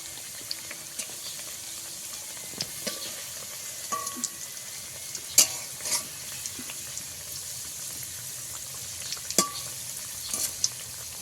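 Sweet semolina kheer-filled gujiya frying in hot oil, a faint, steady sizzle with scattered soft pops and occasional clinks of a spoon turning them in the pan.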